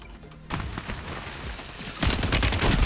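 Gunfire in the shooter Warzone, a steady stream of shots with dull thumps that rises into a louder, denser burst near the end, fairly close and with no talk over it.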